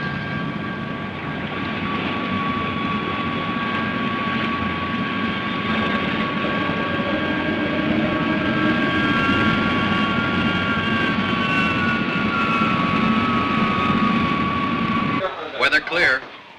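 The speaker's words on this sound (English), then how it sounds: "X-80, standing by for takeoff. With your permission, Tower. Am I clear to roll?" The X-80 aircraft roars steadily through its takeoff run, a loud continuous engine drone with whining tones that holds for most of the span before cutting off abruptly near the end.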